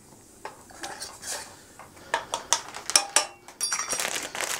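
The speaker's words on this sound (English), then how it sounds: "just stirring in that sugar and that salt" Sugar and salt being stirred into a simmering pan for a crow recipe, with spoon clinks and scrapes against the pan coming in irregular bursts, louder and busier toward the end.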